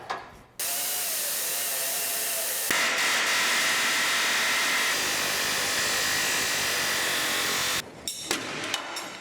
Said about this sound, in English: I like to split this head of this rivet with a die grinder first.